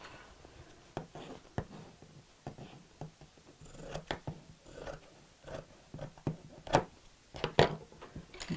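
Scissors snip through fabric while a sewing project, a sewing machine dust cover, is trimmed: a quiet, irregular series of crisp cuts and small clicks, speeding up toward the end, with no talking.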